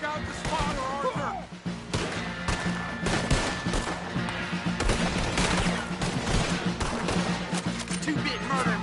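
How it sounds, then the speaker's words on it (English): Gunfire in a Red Dead Redemption 2 shootout where a cannon is being fought over: dense, continuous volleys of rifle and pistol shots crack throughout, mixed with battle noise, while voices shout over the firefight. "Try to flank them, Arthur. We'll shoot you some space"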